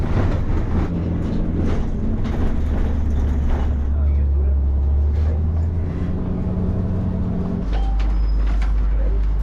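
Ride aboard a tram through Riga, Latvia, heading toward the Old Town, with a loud low rumble and shifting drone of the moving car, rattles and clatter, and a deeper steady tone near the end.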